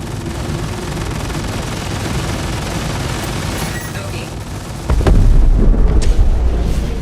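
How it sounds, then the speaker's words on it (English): Ship explosions and gunfire in the Star Citizen space combat game, a dense continuous roar of blasts and rapid fire, with a heavier booming burst near the end, loud and close. "Beautiful explosion."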